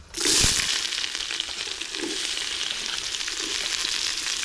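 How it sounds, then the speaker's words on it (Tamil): Sliced onions added to hot oil with cinnamon and whole spices, a loud hiss at first settling into a steady, continuous sizzle close by with faint stirring. "பட்டை வகை நல்லா பொரிஞ்சிருச்சு வெங்காயம் சேர்த்துப்போம்"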